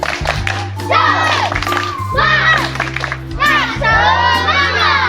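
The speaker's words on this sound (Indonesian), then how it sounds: "Coba lo tepuk semangat" A group of teachers performs a rhythmic spirit clap with shouted cheers in loud repeated bursts, with a voice leading and music humming underneath.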